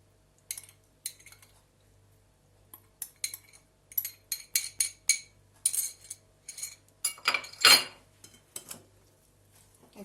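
A utensil stirs a green lentil salad in a bowl, making a run of sharp, irregular clinks and scrapes against the dish, close and clear over a low steady hum, with no talk.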